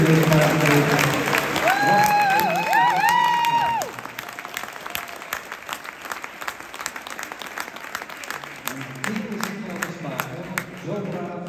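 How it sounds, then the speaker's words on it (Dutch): Audience applause at a Gelders stallion show, with many hands clapping under an announcer's voice and musical tones early on, then thinning into scattered, fading claps after the first few seconds. "Dames en heren, u mag even een applaus geven."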